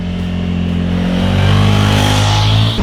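Suzuki V-Strom 1000XT 2017 motorcycle with a 90-degree V-twin engine, ridden in second gear at about 2000 rpm: a steady, close, smooth low rumble that swells slightly in loudness, with no voices.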